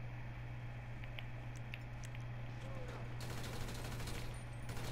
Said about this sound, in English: Shooting some more.